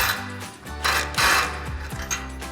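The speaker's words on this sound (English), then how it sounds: "take a 17mm socket and an impact and tighten it down" An impact wrench with a 17mm socket drives a nut over a flat washer while mounting a bull bar on a 2024-2026 Toyota Tacoma, giving a couple of short, sharp hammering bursts up close.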